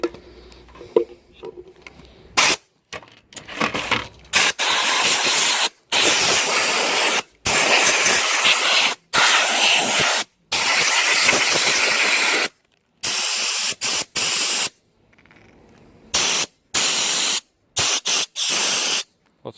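Compressed air from a DIY 12V 40-litre air compressor built from recycled gear, blasting in loud hissing bursts of varied length, separated by sharp silent gaps as the trigger is pulled and released repeatedly.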